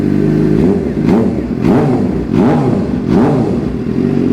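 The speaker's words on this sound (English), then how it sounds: "I'm going to go ahead and just get a few blips of throttle" Suzuki GSX-R 750/600 motorcycle engine idling loudly up close, with about four quick throttle blips spaced roughly half a second apart, each rising and falling in pitch.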